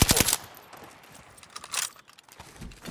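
Rapid bursts of gunfire from a shooter video game in a zombie mode, with a sharp loud volley at the start and scattered shots afterward.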